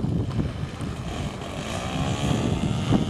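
An RC airplane built from a pizza box and powered by a Thunder Tiger 42 glow engine buzzes by in flight, a rough propeller whine over wind noise that rises and falls slightly as it passes at moderate distance.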